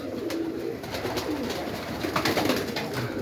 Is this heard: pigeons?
yes